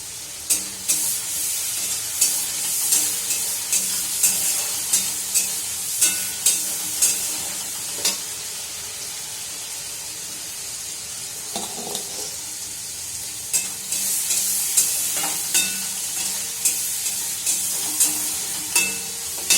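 A spice paste fries in a pan with a constant loud sizzle and hiss, while a spoon scrapes and stirs it in regular rhythmic strokes that sound close up.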